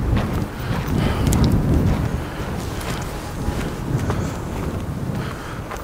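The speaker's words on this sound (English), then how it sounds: "Bit of wind, but it's not cold, is it?" Wind gusting outdoors beside old castle ruins, a steady broadband rush buffeting the microphone throughout, strongest in the first two seconds, with no talk.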